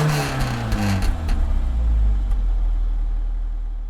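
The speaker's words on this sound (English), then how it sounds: "So there it is, little engine rev for you." A TRS car engine in Gran Turismo revs up with a rising growl, then settles into a deep, steady rumble that slowly fades.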